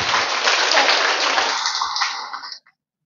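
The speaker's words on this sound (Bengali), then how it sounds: "একটু জোরে হাত তালি দাও।" A workshop audience breaking into loud, dense applause that holds steady and then tapers off and cuts to silence near the end.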